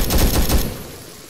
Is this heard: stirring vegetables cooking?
no